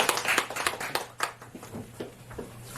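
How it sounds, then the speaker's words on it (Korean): An audience claps in welcome for a telecommunications supervision engineer about to speak at a public briefing on smart-home wallpad defects, with a cluster of sharp hand claps that thin out into scattered, fading applause. "큰 박수로 환영해주십시오"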